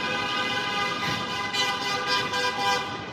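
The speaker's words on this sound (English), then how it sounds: "somebody's honking their horn" A car horn honks on a busy New York City street, sounding as a few sustained toots over steady traffic noise.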